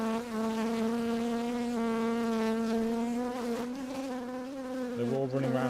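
Honey bees swarming during removal of a colony from a chimney, a dense continuous buzz that holds steady and close, dropping slightly in pitch near the end.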